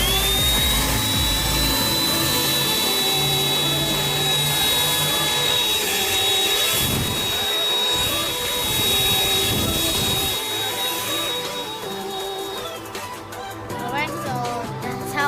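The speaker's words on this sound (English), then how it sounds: "so I'm gonna vacuum first" An AIRKII HV-02B cordless handheld car vacuum cleaner runs at a car wash, sucking beach sand from a car interior. It gives a loud, steady, high whine that holds for most of the stretch, then wavers near the end.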